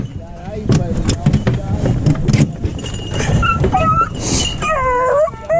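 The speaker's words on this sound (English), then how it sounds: "let's get them dogs out" Hunting dogs whimper and yip with rising, wavering cries as they are let out on a frosty morning of rabbit hunting, heard close over jangling and vehicle rumble.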